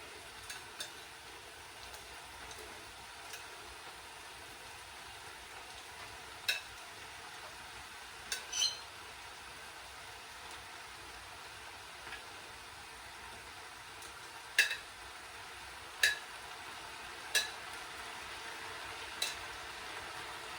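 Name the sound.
beef and peppers sizzling and stirred in a pan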